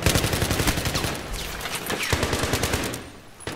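Rapid, loud gunfire from Battlefield 3 in Gun Master mode on the Operation 925 map, with bursts of automatic shots cracking in steady succession and a few sharper reports.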